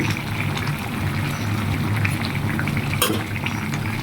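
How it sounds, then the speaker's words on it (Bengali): A pot of bottle gourd curry bubbling at a steady boil as a fish head goes in, a continuous close simmering hiss with a brief splash near the end and no talk. "বলক চলে আসছে, মাছের মাথা দিয়ে দিব"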